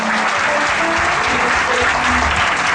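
A church congregation claps steadily and loudly, a dense, even wash of applause that fills the space without pause.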